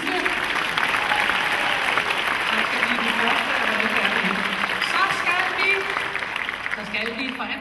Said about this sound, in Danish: I skal også klappe de sidste.